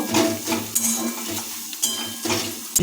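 Salted onions stirred in a pan with a spoon, giving a close sizzle with clinks and scrapes of utensil on metal over a few seconds.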